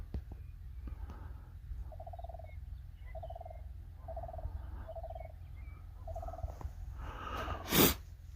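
A bird calls outdoors in the morning near Independence Rock, its short tonal phrase repeated five times at a steady pace, fairly close, over a constant low rumble of background noise, followed by a sharp burst near the end.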